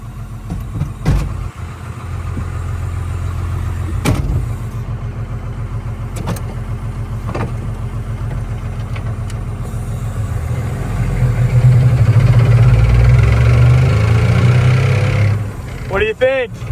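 A 1st Gen Cummins diesel engine, rescued after years of sitting, idles steadily up close with a rough low rumble that swells louder near the end, while people talk over it.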